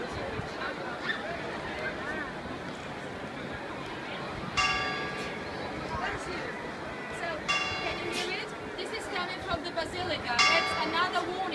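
A church bell at a basilica in Venice rings a five-minute warning, metallic strikes recurring close by over a steady hum of crowd chatter and outdoor background noise.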